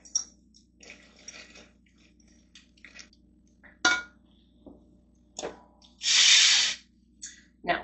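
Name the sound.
stirring pistachios and sesame seeds in a pan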